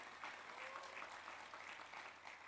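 Congregation applauding at a church service, a steady wash of clapping that holds evenly from start to finish at a fairly faint level, with no speech over it.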